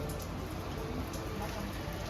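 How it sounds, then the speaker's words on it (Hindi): Snow and rain fall together in Harsil Valley, Uttarakhand, a steady broadband hiss of precipitation that stays constant and close, with no clear talking. "स्नोफॉल और बारिश दोनों साथ में ही हो रहा है।"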